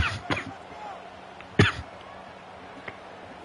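Two or three short, sharp coughs close to the mic: a pair of quick bursts at the start and a stronger single cough mid-way, with quieter background in between, during a Cincinnati Bearcats college football video game session.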